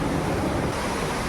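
Water rushing at Jonha Falls, a waterfall near Ranchi, forms a steady, dense roar mixed with some wind buffeting, loud and continuous with no break.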